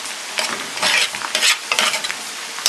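Pasta sizzles and crackles in a heated pan while being stirred, bursts of frying noise rising and falling in uneven surges up close, with no voices.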